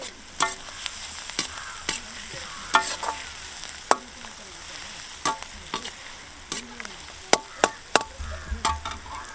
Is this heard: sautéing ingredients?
yes